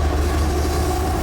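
An eastbound Union Pacific freight train rolls past at Blair, Nebraska, with a steady, loud, continuous rumble and rail noise and no talk over it.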